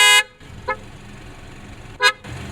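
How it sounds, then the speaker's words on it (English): A BMW car horn honks: a loud, sharp blast opens the clip, followed by a faint short toot and then another short, loud honk near the end, with quiet ambience between. "It's gonna be the horn of the car."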